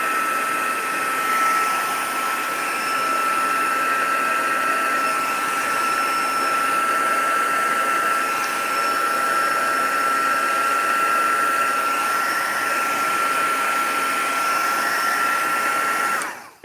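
Crafters Choice heat tool blowing hot air to dry alcohol ink, a steady close whirring hum with a constant high whine running unbroken until it cuts off at the end.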